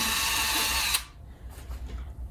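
A power drill runs slowly under low pressure to bore a pilot hole through plexiglass, a steady close-up whine that stops abruptly about a second in, leaving quiet handling sounds.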